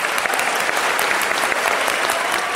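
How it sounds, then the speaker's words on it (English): Students in a university audience at a First Amendment event applaud classmates, dense, even clapping held at a steady, fairly loud level throughout. "I'd like you to give your classmates who were brave enough to ask questions an applause"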